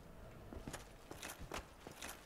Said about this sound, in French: J'entends un bruit de pas.